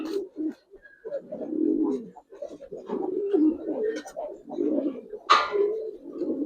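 Domestic Giribaz and coloring pigeons cooing in a loft, a close, steady run of low throaty coos that overlap one another and carry on throughout, with a brief higher call near the end.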